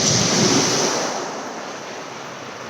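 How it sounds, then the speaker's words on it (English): Ocean surf rolls in a steady, loud wash at night under a full moon, one broad swell fading gradually before another wave begins to rise, with wind buffeting the microphone. "I think I'll just listen to the waves for a minute"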